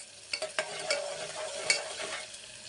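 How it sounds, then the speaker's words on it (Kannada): Onion frying with salt in a pan gives a steady sizzle, broken by several quick scraping stirs and light utensil taps early on, with no voices. "ಆಮೇಲೆ ಸ್ವಲ್ಪ ಹಳ್ಳುಪ್ಪು ಹಾಕ್ತಾಯಿದ್ದೀನಿ. ಇದೆಲ್ಲ ಚೆನ್ನಾಗಿ ಫ್ರೈ ಆಗಬೇಕು."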